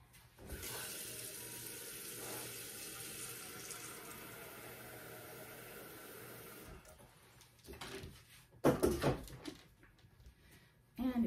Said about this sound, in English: Okay, and now I will get some water.